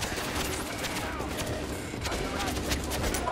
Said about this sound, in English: There's a machine gunner right on top of me.